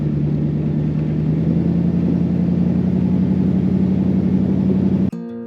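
A car rolls through Lynx Campground at Lynx Lake near Prescott, Arizona, with a steady low engine drone and road rumble from inside the cabin that cuts off abruptly near the end.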